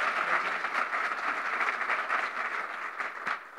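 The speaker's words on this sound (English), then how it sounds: "Let's hear another round of applause for SpaceX and CAPI leaders." Sustained crowd applause from a conference audience after a SpaceX post-launch briefing, dense steady clapping at close range that carries evenly throughout without pause.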